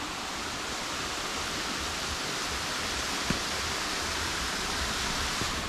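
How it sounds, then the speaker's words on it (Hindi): Waterfall near Ella, Sri Lanka, a constant broadband roar of falling water heard close and steady, with no talking. "oh wow that's the waterfall"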